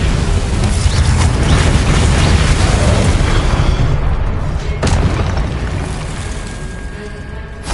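A fire spell cast in the Hogwarts Legacy video game bursts out as a loud, roaring blast of flame, with a dense rumble that stays heavy for several seconds before slowly thinning out. No voices.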